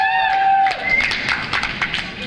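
An audience at a neighborhood meeting lets out a high whoop, then breaks into a quick burst of scattered claps and stomps that fades within a couple of seconds.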